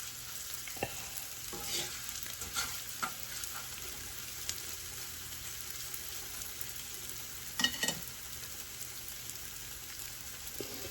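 Thin strings of onion fry in hot oil, giving a continuous low crackling sizzle dotted with brief pops and stirring clicks, quiet and steady with no talk.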